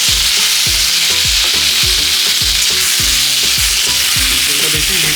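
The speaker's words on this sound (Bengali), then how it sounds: "এটা ফ্রাই করে নিব, পেঁয়াজ আর টমেটোটা। তো সরষের তেল দিয়েছি কড়াইতে, তেলটা গরম হয়ে গেছে" Onion and tomato frying in hot mustard oil in a wok, a loud steady sizzle with repeated stirring scrapes and clatters about every half second, no voices.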